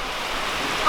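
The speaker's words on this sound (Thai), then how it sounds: "ฝนตกแห้งๆนี่แหละอีสานบ้านเฮา" Steady rain falls in a rural village in Isan, Thailand, a dense even hiss close by with no pauses and no talk over it.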